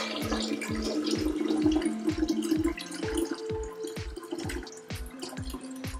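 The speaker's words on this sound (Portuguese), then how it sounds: "tenho aqui um coador no jarro e é só virar e coar a nossa tisana" Green tea, lemon and mint tisane being strained through a sieve into a jug makes a steady pouring and dripping of liquid, close and continuous, with rhythmic drips throughout.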